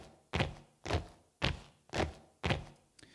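Recorded footsteps with a short room reverb and mid-range EQ: five evenly paced, soft thudding steps, each with a brief roomy tail, then a faint click at the end.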